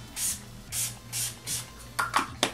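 Four soft, breathy hisses of Urban Decay De-Slick setting spray mist onto a face puff out at an even pace, followed by a few quicker, sharper sprays, all close and fairly quiet.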